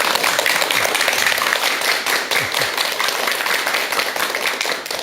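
A hall audience claps to welcome a doctor giving a lecture, a dense, steady wash of applause that stays loud and even for the whole stretch, with no talking over it.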